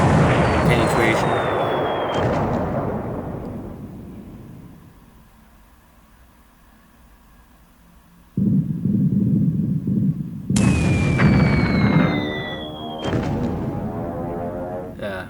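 Machine gun hits on a destroyer in the War in the Pacific naval combat game, heavy booming impact bursts and rumbling blasts with a rising whistle, loud and close, separated by a quieter lull.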